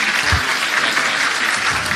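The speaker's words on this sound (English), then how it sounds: "let's have another big round of applause for Morris Goolagong" Audience at the 2017 BDAFL Elliot Davey Medal awards night, held at Belmont 16 Footers, gives a loud, steady round of applause that fills the space continuously.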